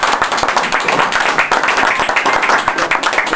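A room full of people applauding, dense steady clapping that carries on throughout without a break.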